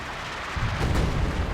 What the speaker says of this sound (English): So that's actually my artillery from the base.